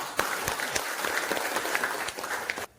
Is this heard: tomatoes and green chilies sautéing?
no